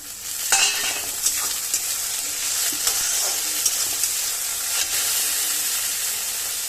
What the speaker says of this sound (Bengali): পেঁয়াজটা ভাজা হয়ে গেছে, এর ভিতরে দিয়ে দেবো টমেটো